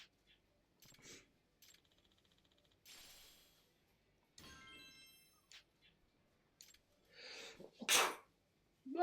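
One loud, sharp human sneeze bursts out near the end of a quiet indoor stretch, preceded by scattered small clicks and rustles, with no speech over it.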